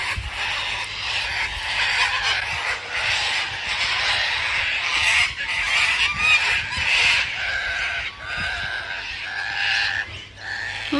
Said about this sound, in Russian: Попугаи так кричат